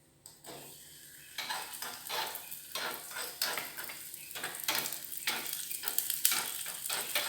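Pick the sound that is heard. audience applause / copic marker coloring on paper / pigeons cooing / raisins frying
raisins frying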